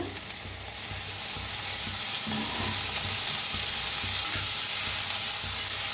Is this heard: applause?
no